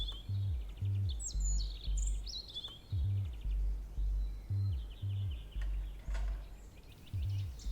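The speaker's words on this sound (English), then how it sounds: "Just listening to the birds at the moment, which you can hear" Repeated low gobbling calls pulse in a steady rhythm, with higher bird chirps and whistles scattered above them, fairly quiet and outdoors near a small hut.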